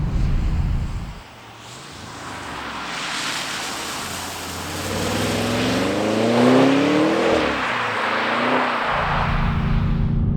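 A 2020 Audi RS 6 Avant quattro growls past as its engine and exhaust build from a low rumble to a rising roar, then hold a steady loud drone, with wind noise and no talk.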